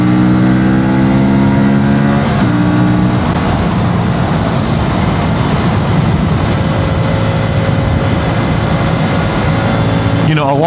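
Aprilia Tuono 457 motorcycle engine revving hard while ridden, a loud sustained mid-pitched drone with rising and falling revs throughout, steady road and wind noise beneath it.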